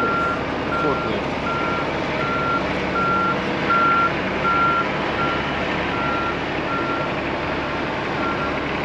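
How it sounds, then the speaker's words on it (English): A forklift lifts and moves a semi-truck trailer, its reversing alarm beeping steadily and repeatedly over a constant engine drone, with a voice speaking faintly in the background. "Straight moving that thing with a forklift."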